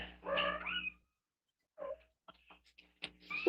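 An outdoor cat meows up close, one long drawn-out call at the start, then after a short silence a brief chirpy meow followed by scattered small clicks and a final short cry.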